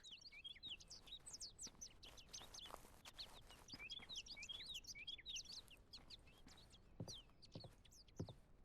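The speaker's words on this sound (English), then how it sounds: "Oh, I'm starting to hear birds." Many small birds chirp and tweet without a break in the open-world survival game The Golden River Project. The calls are fairly faint and near, with a few soft thuds underneath.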